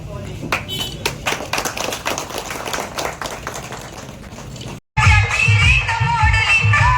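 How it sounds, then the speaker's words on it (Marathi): Audience at a village ceremony in Gunjalwadi claps in a burst of uneven applause that fades out, followed by a loud stretch of music and noise. "आपण खताळ साहेबांचे पुन्हा एकदा आपण सर्वांनी टाळ्या वाजवून स्वागत करायचं आहे"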